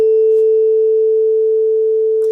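A 440 tuning fork struck with a mallet rings out as a clean, steady pure tone that holds at an even level, with a soft tap at the start and another faint knock near the end.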